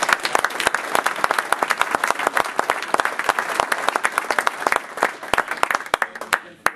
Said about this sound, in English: So I'm going to ask you to give these guys a round of applause.